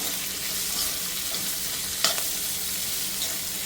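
Steady broadband sizzle of food frying in a pan, with a brief clatter of stirring midway; no voices.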